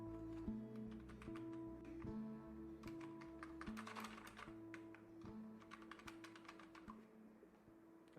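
Typing on a computer keyboard to enter a database record, scattered soft key taps in short bursts, faint and close, over a quiet background with steady tonal hum.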